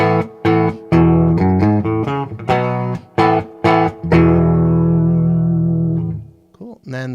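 An electric guitar plays a clean tone through overdrive pedals set with all knobs at noon, a run of plucked notes and chords ending in a long ringing chord that fades, loud and close.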